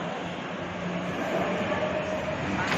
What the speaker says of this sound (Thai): เรานั่งรถไฟฟ้ามหานคร